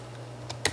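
Keyboard typing on a computer, a few quick soft key taps near the end after a stretch of quiet hum, close and fairly faint.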